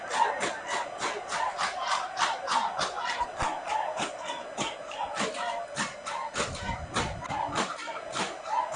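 Football fans at a secondary school match chant and cheer in rhythm during a penalty shootout, a steady, pulsing crowd roar heard from some distance.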